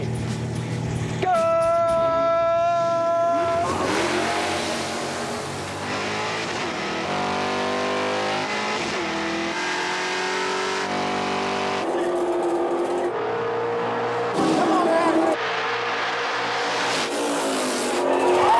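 A 5-speed 1988 Mustang and a 1980 Camaro launching off the drag strip start, loud roaring engines with rising gear-change pitches and tire squeal, heard up close at the race.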